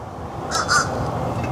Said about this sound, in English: oh, nice big raven over there.